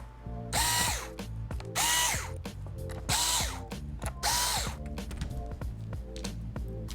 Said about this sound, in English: you just want to unscrew the screws that are holding the LCD in